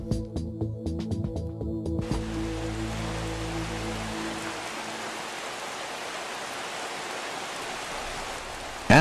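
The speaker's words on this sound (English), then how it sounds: "After the rain falls" Rain falls steadily as a broad, even hiss that takes over after a brief tonal passage, continuing at a consistent level throughout.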